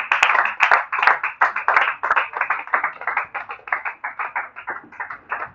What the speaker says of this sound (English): can you clap for Jesus?